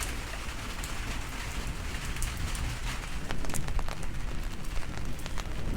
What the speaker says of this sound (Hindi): कुछ देर बारिश का मज़ा लेते हैं।